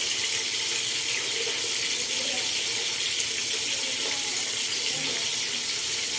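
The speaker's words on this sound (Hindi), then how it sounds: "बिल्कुल थोड़ा इसमें पानी डालना है, बिल्कुल थोड़ा, ताकि जिससे ये ग्राइंड हो सके।" A small amount of water pours into a grinder jar holding spices, a steady close hiss of running water throughout.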